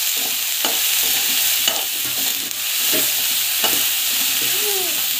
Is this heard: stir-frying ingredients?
yes